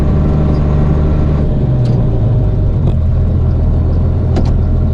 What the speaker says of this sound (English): I gotta work and talk here. This H&S spreader that I'm using here